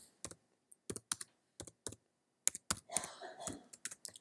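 Quiet, close computer clicks in small clusters, including paired taps like a double-click, with short silent gaps, in a quiet room while working on UV mapping in 3D software.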